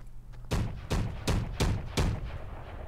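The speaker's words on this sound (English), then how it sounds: "there's shots from like a mech coming from over here" A mech firing in Fortnite, heard as five heavy, booming gunshots spaced roughly evenly, each with a short echoing tail, a little distant.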